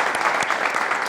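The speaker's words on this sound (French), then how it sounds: "Applaudissez pour vous." An audience at a university French club event applauds, a dense close patter of clapping hands throughout the short burst.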